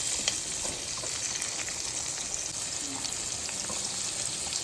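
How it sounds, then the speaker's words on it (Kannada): Ginger garlic paste sizzles and fries steadily in a hot pan, a continuous close crackling hiss with faint stirring scrapes and no talking. "ಇದೀಗ ಸ್ವಲ್ಪ ಕಲರ್ ಚೇಂಜ್ ಆಗೋ ತನಕ ಸ್ವಲ್ಪ ಫ್ರೈ ಮಾಡುವ"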